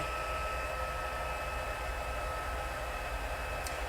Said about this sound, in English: I'm going to turn on the heat gun back behind us here and heat this up